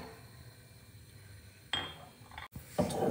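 Metallic clinks and scraping as cashews go into a cooking pan with silicone handles, faint clatter with a couple of brighter clunks toward the end.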